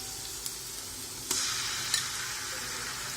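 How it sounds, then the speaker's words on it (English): Ginger garlic paste sizzles with softened, translucent onions in a chicken curry, a steady close frying hiss broken by a few sharp stirring scrapes. "So this is the right time to add the ginger garlic paste."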